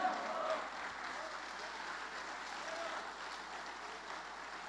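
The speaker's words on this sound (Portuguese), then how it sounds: "Você pode aplaudir ao Senhor?" A church congregation claps in praise during a sermon, a steady wash of applause heard at a modest distance, with faint voices mixed in.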